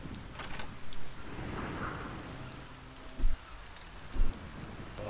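Rain in the fantasy video game Arcania Gothic 4, a steady wash of rainfall with low rumbling thunder-like bursts, heard alone at moderate loudness.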